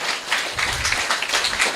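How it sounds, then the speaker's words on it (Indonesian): Applause from an audience at a community discussion event, moderate clapping from a group that holds steady throughout with no voices over it. "Wah, tepuk tangan untuk 3 orang tadi."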